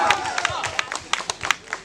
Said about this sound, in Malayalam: ഒരു കയ്യടി.